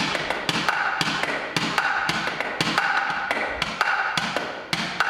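A drum-like wooden box hung from the neck is struck with a beater in a steady rhythmic pattern of sharp, close taps and thuds, played loudly with no talking.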